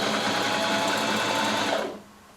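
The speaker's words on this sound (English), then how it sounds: "I'm going to try my best to sew this" A sewing machine runs steadily, stitching swimsuit fabric for a ruched reversible swimsuit bottom, its even mechanical whir filling nearly two seconds before cutting off abruptly into quiet.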